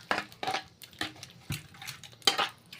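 Mustard oil and coriander-leaf pickle stirred in a pan with the gas off, giving a run of five or six scraping, clinking utensil strokes against metal at an even, unhurried rhythm, close and fairly loud with no talk.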